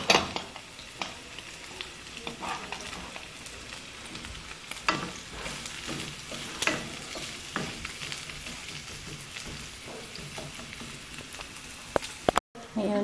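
Garlic fries in a hot pan, a steady crackling sizzle with sharp pops and occasional stirring scrapes, close and fairly loud throughout, with a brief dropout near the end.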